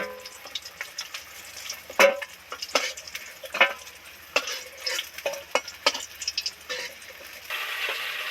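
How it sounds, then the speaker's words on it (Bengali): Bata fish frying in hot oil, a crackling sizzle broken by irregular clinks and scrapes of a utensil against the pan, close up and moderately loud, with no voices. "আর একবার মাছ অন্য মাছগুলো ভেজে নিচ্ছি"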